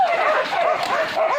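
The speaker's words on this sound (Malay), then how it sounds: "Ini seekor anjing pontong." A village hunting dog, a kampung dog in the savanna after a wild boar chase, gives continuous high yipping and whining cries, close and fairly loud, with no clear separate barks.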